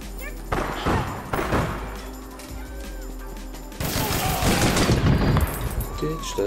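Rapid bursts of gunfire in the online shooter APB during a 3v3 Waterfront defence mission, loud clustered shots and impacts with a heavier barrage in the second half.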